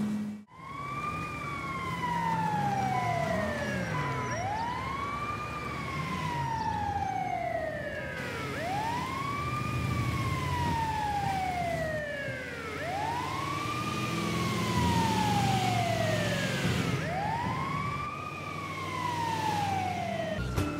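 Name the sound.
ambulance siren in GTA 5 video game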